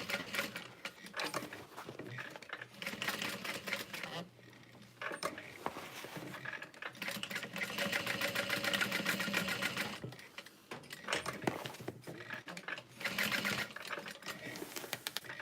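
A sewing machine back stitches a leather bag in quiet, rhythmic mechanical runs, starting and stopping between bursts, with a brief pause near the middle, faint and close.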